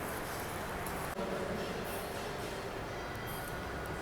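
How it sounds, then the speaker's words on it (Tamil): Express train 16361 to Velankanni stands at a station platform, giving off a steady low rumble and hum with one brief thud early on. "இதாங்க நம்ம ட்ரெயின் 16361 வேளாங்கண்ணி எக்ஸ்பிரஸ்."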